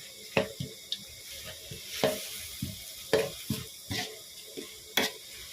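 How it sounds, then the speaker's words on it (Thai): Squid stir-fried with holy basil leaves in a pan gives irregular bursts of sizzling, scraping and stirring, several sharp clatters spaced about a second apart over a low background hiss. "ใส่ใส่ใบกะเพราลงไปครับพี่น้อง ก็ผัดให้ ใบกะเพรามันยุบจักหน่อยครับ"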